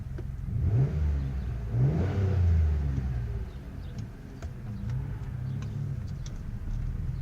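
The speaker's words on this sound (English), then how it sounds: "Stock exhaust." A car with its stock exhaust accelerates on a test drive, a mid-pitched engine note rising and falling as it revs through gears, steady and fairly close with no talk.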